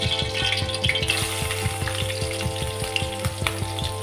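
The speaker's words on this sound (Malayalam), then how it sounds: "നെയ്യ് ഉള്ളിയ ഉടനെ നമുക്ക് അരിഞ്ഞ് വച്ചിരിക്കുന്ന പച്ചമുളക്, ഇഞ്ചി," Green chili, ginger and garlic sizzle steadily in hot ghee, a dense, close frying crackle with a rhythmic pulsing hum running beneath it throughout.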